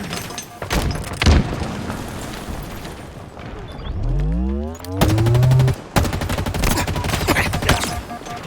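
Rapid bursts of automatic weapon fire from a Halo Infinite match, loud and close, broken by a brief pause with a rising whine and a boom before the shooting resumes in dense volleys.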